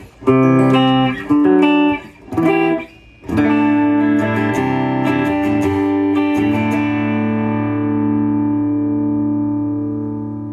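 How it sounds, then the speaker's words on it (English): Electric guitar through the clean channel of an amp and cabinet: a few short choppy chords, then a long ringing strummed chord that slowly decays, with no voices. "Just going straight through the clean channel, it sounds like this."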